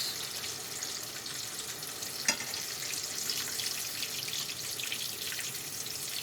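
Chicken cutlets sizzle and crackle while frying in a pan, a steady bright hiss with one small pop partway through and no talking.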